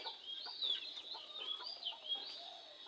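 Chickens in a two-storey coop, with a hen on the ground floor, give repeated high clucking and chirping calls, moderately close and overlapping, with no talking.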